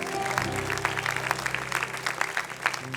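A church congregation claps in a steady, moderate round of applause, with scattered voices and music faintly underneath.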